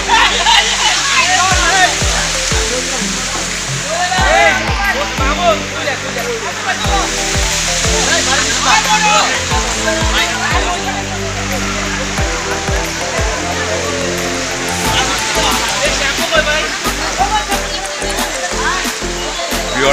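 A small waterfall in the Sitakunda hills roars in a loud, continuous rush of falling water throughout, with a person talking over it.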